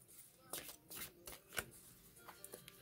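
Tarot cards are laid out and handled on a surface, giving a run of soft flicks, slaps and shuffling rustles at irregular intervals, ending in a louder burst, with a voice talking quietly underneath.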